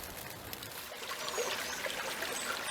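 Water flows in Moore Creek at Eno River State Park, a soft, continuous trickle and babble, fairly quiet and steady with no voices.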